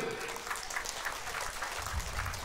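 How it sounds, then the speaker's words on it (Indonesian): Crowd at an outdoor political rally in Pekat, Dompu, clapping steadily, a soft continuous patter heard at a distance with low rumble underneath. "Tepuk tangan dulu."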